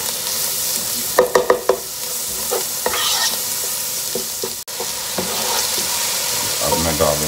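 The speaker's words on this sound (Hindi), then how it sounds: "अब इसमें डाल रहा हूँ लहसुन। मिक्स अच्छी तरह प्याज के साथ।" Garlic and onions frying in a pan for tomato soup, stirred with a utensil: a loud, close, steady sizzle with a few sharp scraping knocks and clatters of the spoon against the pan.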